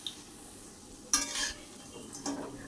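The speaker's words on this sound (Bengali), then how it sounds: "মিডিয়ামে করে রেখেই আমি পকোড়াগুলো ভেজে নিচ্ছি" Cauliflower pakoras fry in oil over medium heat with a soft, steady sizzle, punctuated by a couple of scraping stirs and clinks of a utensil in the pan.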